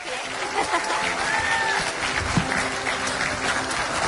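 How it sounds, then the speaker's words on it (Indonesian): Studio audience applause on an Indonesian TV talk show, broad and sustained clapping from a crowd, with a faint voice briefly audible underneath. "Boleh tepuk tangan dong."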